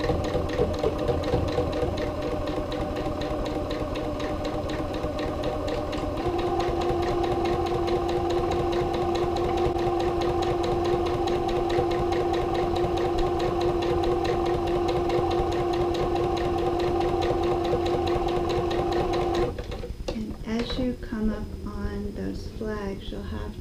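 A sewing machine stitches the top edge of fabric bunting in a steady, even whir that runs for about twenty seconds before stopping, followed by handling sounds.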